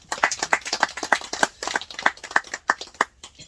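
A crowd claps in unison at an agricultural lecture on Shine Muscat grape fertilizing, a quick run of about a dozen sharp, evenly spaced handclaps, fairly close and with no talking over them.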